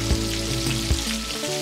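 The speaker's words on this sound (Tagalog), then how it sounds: "Pagkatapos ay i-deep fry sa mainit na mantika." Breaded chicken feet deep frying in hot oil, a dense, loud, continuous sizzle and crackle with a couple of soft bubbling thumps, no voices.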